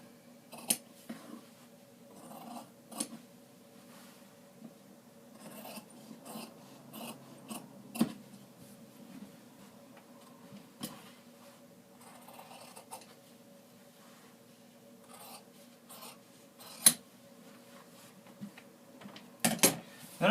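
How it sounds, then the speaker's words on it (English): Scissors snip through fabric for a tailored valance, a series of quiet, crisp cuts spaced irregularly across a near-silent room, with a faint hum underneath and no talk. "I'm going to go ahead and cut this off."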